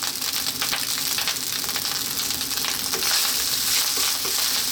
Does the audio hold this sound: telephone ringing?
no